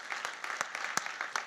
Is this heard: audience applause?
yes